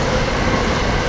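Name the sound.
train passing nearby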